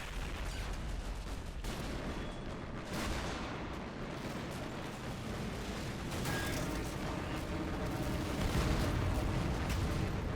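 Dense, continuous rumbling blasts and crackling bursts of gunfire-like explosions in the video game Men of War, layered and relentless throughout, with heavy low-end booms and no speech.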